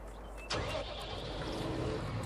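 A Claas tractor engine in Farming Simulator 19 starts abruptly and settles into a steady, fairly loud idling rumble with no talk over it.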